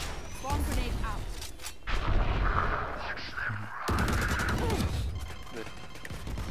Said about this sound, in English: Bomb grenade out.